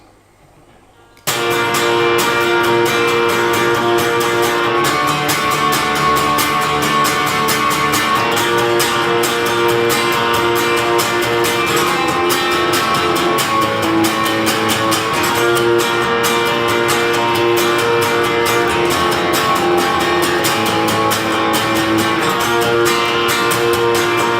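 Guitar strums the third chorus of a song, a full, steady passage with a constant rhythm, loud and close, with no voices.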